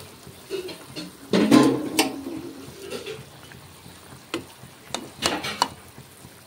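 Fish pieces drop one by one into a simmering curry, with soft splashes and bursts of bubbling sizzle that rise briefly and then settle back into a low, steady simmer.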